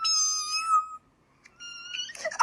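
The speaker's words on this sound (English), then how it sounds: "My cat's meow is so high-pitched" A high-pitched house cat meows twice, a long tonal cry followed after a short pause by a second shorter one, ending in a brief noisy burst, close and clear.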